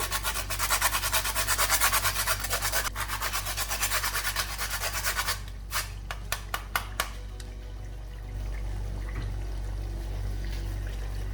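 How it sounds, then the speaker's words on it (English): Whole nutmeg is grated over a lamb korma, making a fast, even rasping scrape for about five seconds, then a few separate strokes, then a soft steady hum of cooking. "grate some nutmeg"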